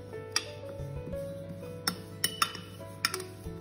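Black and white sesame seeds being stirred together in a bowl, with sparse sharp clinks and ticks of the utensil against the bowl over a soft background hum, and no talking.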